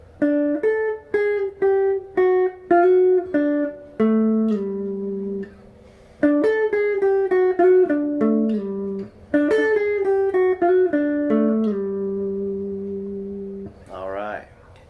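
Clean electric guitar plays a smooth descending chromatic run of single notes, phrased in short bursts and repeated, close and clear.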